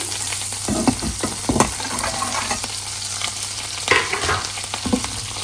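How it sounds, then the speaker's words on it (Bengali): Green pepper and onion fry in butter in a pan, a close, steady sizzle with repeated scraping and stirring clatters from a utensil, no talking. "গ্রিন পেপার আর অনিয়নটা একটু ভাজবো"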